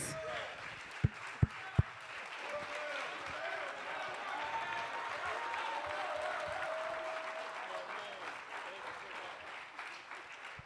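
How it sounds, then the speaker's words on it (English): Applause rises from a gathered crowd for a coach, a broad sustained clatter after a few sharp thumps at the start, with voices murmuring underneath. "Get a man a round of applause."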